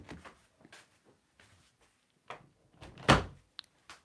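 An indoor door swings shut with one solid thump, after some faint shuffling and soft knocks in a quiet room, followed by small clicks.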